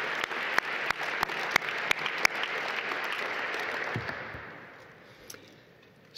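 An audience at the Institute of Peace applauds after a speech on national security. Sharp individual claps ring out over a full round of clapping that slowly thins and fades away to near silence.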